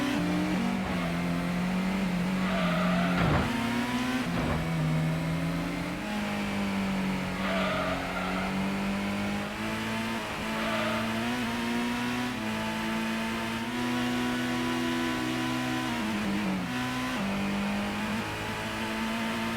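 Race cars in Gran Turismo on the PS1 give a steady drone of engine revving that rises and falls with gear changes, with occasional tire squeals and skids, continuous and close, without speech.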